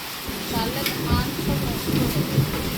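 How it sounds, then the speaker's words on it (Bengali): Rain pouring hard during a hailstorm in a village, a dense, steady wash with low rumbles and scattered impacts, fairly close and unbroken. "শিল পড়ছে"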